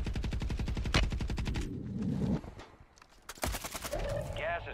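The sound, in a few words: gunfire in a video game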